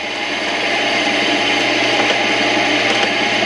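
A 30-degree countersink bit whirs steadily as it bores into holes, a continuous close power-tool drone with a bright grinding edge and no pauses.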